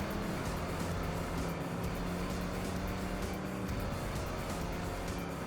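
A truck engine drones steadily while driving in the off-road racing game TNN Motorsports Hardcore TR, on a New Mexico arcade course. The loud motor noise continues without a break, with slight rises and dips in pitch.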